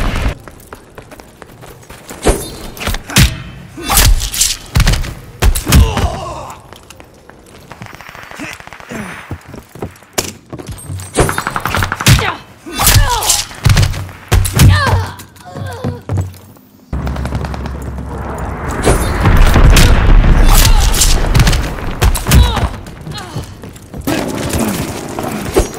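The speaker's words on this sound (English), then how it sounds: "Watch your head! Shells falling!" Artillery shells landing and exploding in Call of Duty amid rapid gunfire, a loud, chaotic run of sharp cracks, booms and thuds with a sustained roaring barrage near the end.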